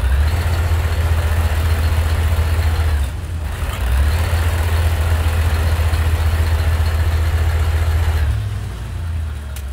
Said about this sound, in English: Listen to the engine rev.